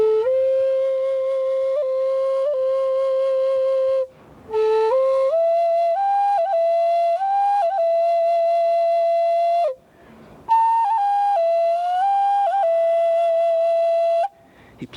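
A breathy flute plays a slow, mournful melody of long held notes, alone and clear, with a few brief pauses between phrases.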